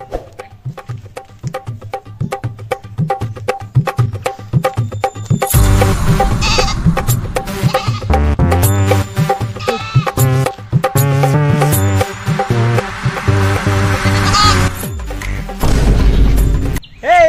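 A goat bleats loudly and repeatedly amid a busy, layered mix of other sounds, with no talking.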